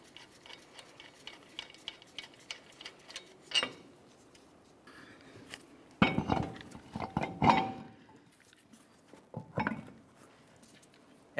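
Metal clinks and clanks as the safety lug nut and spacer come off the front hub of a 2004-2015 Nissan Titan, scattered light taps then a few louder bursts of handling noise, close and with no talk.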